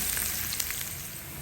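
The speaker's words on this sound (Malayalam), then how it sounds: "ഒരു 10 അല്ലി ചുവന്നുള്ളി ചെറുതായിട്ട് അരിഞ്ഞത്, ഒരു 5 അല്ലി വെളുത്തുള്ളി, ഒരു ചെറിയ കഷ്ണം ഇഞ്ചി, ഇതെല്ലാം കൂടെ ഒന്ന് നമുക്ക് മൂപ്പിച്ചെടുക്കണം" Chopped shallots, garlic and a small piece of ginger sauté in a pan, giving a short, even sizzle with soft crackle up close and no voices.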